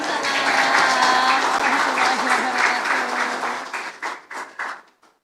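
An audience applauds loudly after a speech by Indonesia's fifth president at an Isra Mi'raj gathering, dense sustained clapping that thins into a few scattered claps before stopping.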